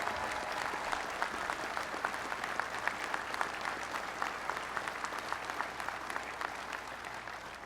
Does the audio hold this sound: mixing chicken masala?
no